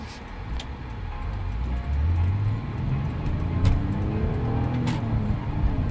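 Engine of a used car running, a low, steady rumble that swells slightly as it revs, fairly close and continuous with no one speaking.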